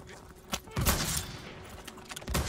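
Sniper gunfire in the video game Call of Duty, a few sharp shots with one loud crack near the middle amid battle noise, plus faint voices.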